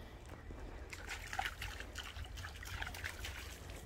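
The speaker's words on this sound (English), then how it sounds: "Water, Sukes. Get some water" Water trickles and splashes softly in a thin stream, a quiet continuous pour with faint sloshing, for a Doberman-lurcher-boxer cross dog to drink on a heath walk.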